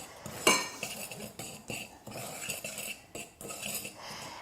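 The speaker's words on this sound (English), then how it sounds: "And then we're going to go ahead and mix this up." Pancake batter with baking powder and baking soda being mixed by a utensil in a bowl, a series of scraping clinks and stirring taps against the bowl, one sharper clink near the start, fairly close and moderately quiet, no voices.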